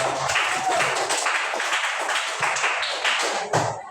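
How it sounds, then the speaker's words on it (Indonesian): A group of students claps together in a classroom, many hands in a quick, uneven patter that carries on for several seconds before tapering off. "Kelompok yang lain berikan tepuk tangan di kelompok 2."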